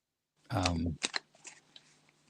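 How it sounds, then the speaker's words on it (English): Tarot cards being shuffled by hand, a brief rustling, flapping burst followed by a few soft riffling ticks and taps, close and fairly quiet, with a low steady hum underneath. "I'm shuffling the cards now"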